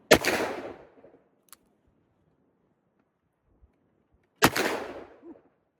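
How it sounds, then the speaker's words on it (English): A Smith & Wesson 686 revolver fires two full-power .357 Magnum rounds outdoors, each a sharp, loud, close blast with a decaying echo, about four seconds apart, with faint small sounds in between. "These full power 357. They've got recoil, that's for sure."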